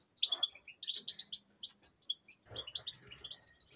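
Male canaries kept for posture, colour and song, including a recessive white male, singing indoors: rapid high-pitched trills and chirps in bursts, close and clear, with brief gaps between phrases.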